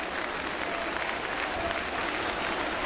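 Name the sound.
ballpark crowd applauding pitcher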